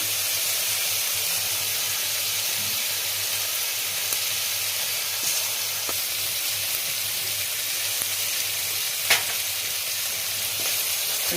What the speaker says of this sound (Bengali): মশলাটা ভাজবো